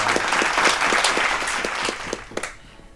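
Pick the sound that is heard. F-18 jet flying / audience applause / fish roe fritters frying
audience applause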